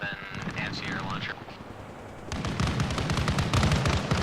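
Rapid gunfire in a military video game, a dense burst of close, loud shots in the second half, after quieter game sounds and a voice talking near the start.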